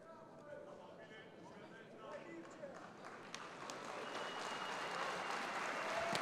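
A fight crowd at a lightweight MMA bout in Chisinau gives appreciative applause, heard as a growing wash of clapping beneath a commentator's steady talk.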